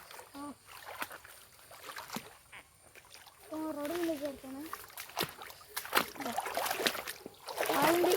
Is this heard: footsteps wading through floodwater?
yes